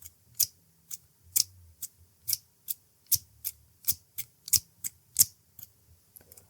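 Scissors snip close to the ear in an ASMR session, crisp metallic clicks in a steady series of about fifteen separate cuts, evenly spaced and alone with no talking.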